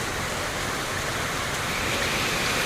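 Heavy rain pours steadily in Kalimpong bazaar, a dense, even hiss with no breaks, heard from under a shop awning.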